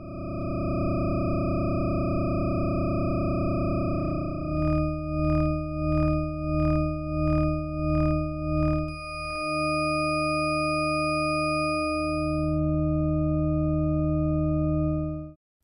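Psychoacoustic sonification tones mapped to separate axes: pure steady sine tones, then a pulsing series of rhythmic beeps, then shifting sustained tones, clean and electronic with no voices.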